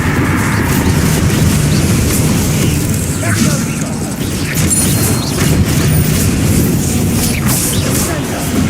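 A Bombarda spell goes off in the game Hogwarts Legacy, a loud, sustained blast of booming, crackling noise that fills the scene, with spoken voices running through it.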